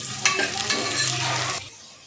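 Vegetables frying in a pan with half a teaspoon of turmeric, stirred briskly: a loud, close sizzle with scraping stir strokes running steadily for about a second and a half, then fading to a softer hiss.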